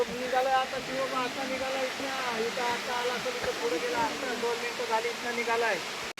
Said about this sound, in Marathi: इथे वरून देवकुंडचं पाणी पडताना बघताना मला खूपच आनंद होता एकदम